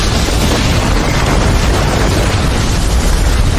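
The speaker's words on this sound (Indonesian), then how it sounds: "dia langsung meledakkan tempat tersebut" A dense, roaring blast of noise that stays loud and unbroken throughout, like a sustained explosion rumbling on, from a detonator setting off a blast.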